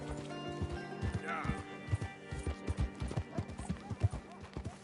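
Horse in the video game Red Dead Redemption 2 trotting with quick rhythmic clip-clop hoofbeats and a whinny partway through, fairly quiet, while someone talks over it.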